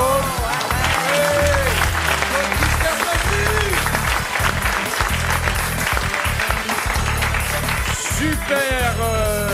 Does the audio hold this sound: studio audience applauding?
yes